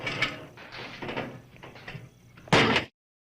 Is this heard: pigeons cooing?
no